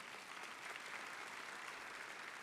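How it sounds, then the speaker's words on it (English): Applause from a commencement audience at a community college ceremony, a steady faint wash of many hands clapping at a distance, with no voices over it. "Yeah, you can put an applause right there."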